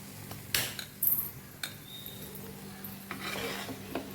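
A spoon scraping and tapping as pumpkin halwa barfi is transferred into a container in a home kitchen, a few soft clinks and scrapes spaced out against a faint background hum.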